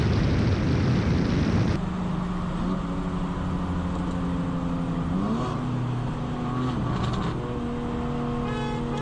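A BMW G80 M3 racing a Dodge Demon 170 roars loudly as the engines accelerate hard, with rising revs and gear shifts sweeping upward over about nine seconds, close and continuous with no talking.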